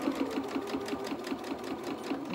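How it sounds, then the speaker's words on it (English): A sewing machine stitches a T-shirt dress and pivots at a fabric corner, giving a steady, rapid mechanical whirr with an even stitching rhythm, close and continuous, with no talking. "we're going to put our needle down in our work, lift our presser foot, and then we can pivot to the edge"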